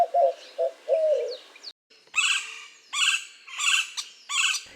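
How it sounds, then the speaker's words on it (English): A white-winged dove gives several short, deep rhythmic coos close by. Brighter chirping calls from another bird follow after a brief gap. "White-winged doves give a deep, rhythmic "Who cooks for you?" style coo."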